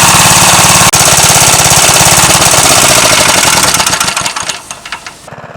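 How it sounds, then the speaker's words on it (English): A 1953 JAP engine powering a crane chugs loudly and steadily at close range, then idles down with its firing slowing and thinning once the fuel is cut, and stops within a few seconds, leaving near silence. "You just turn off the fuel and it will idle down and stop very quickly."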